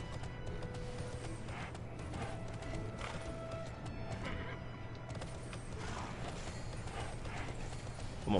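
Quiet, steady clip-clop of video game horse hooves trotting in a rhythmic pattern over a low hum, with no talking.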